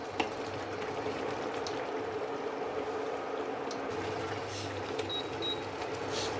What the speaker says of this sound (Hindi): क्रीम मिला के इसको एक मिनट तक और पकाएंगे।